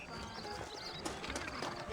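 Horses' hooves clip-clop on a town street in the Western video game Red Dead Redemption, a brief steady trot under ambient game sound.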